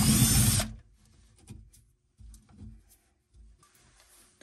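A power drill with a 1/4-inch bit whirs loudly for about half a second, then stops, leaving faint scattered handling noises and light clicks.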